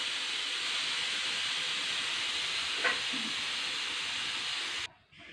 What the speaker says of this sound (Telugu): స్టవ్ ఆఫ్ చేసి విజిల్ పీకేద్దాం